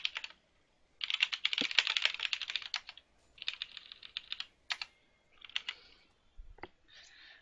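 Fast, clattering keystrokes on a computer keyboard during a League of Legends game stream, typed in several bursts with short pauses between them, close and alone with no talking.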